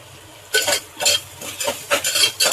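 A spoon stirs onion, tomato and chilli powder in a cooking pan, making about six rhythmic scraping strokes that are close and fairly loud, with a faint sizzle between them and no speech.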